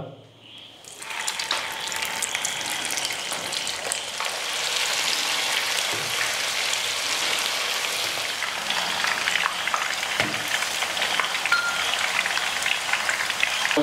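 Chicken kofta balls fry in hot oil: after a brief quiet start, a loud, dense, continuous sizzle and crackle fills the rest, close and steady with no voices.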